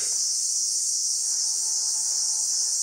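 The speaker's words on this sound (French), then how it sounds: "On n'entend que les cigales de l'Himalaya." Himalayan insects near the foot of Makalu chirp in a dense, continuous high-pitched shrill like cicadas, steady and fairly loud for the whole stretch with no voices and only faint background.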